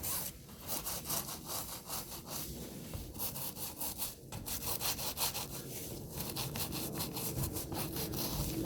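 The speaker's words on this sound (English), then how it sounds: "scrub round just to make sure you've got full coverage around any fixed objects" A brush scrubbing around the fixtures and fittings on a RIB boat during cleaning, in quick rhythmic back-and-forth rasping strokes that go on steadily, fairly close.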